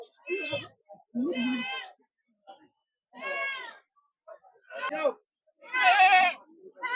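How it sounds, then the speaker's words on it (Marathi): Goats bleat in a series of wavering calls at a goat and sheep market in Shirur, with several separate cries rising and falling over about seven seconds, the last one loudest and closest. "आजीनं शेळ्या आणलेल्या आहे."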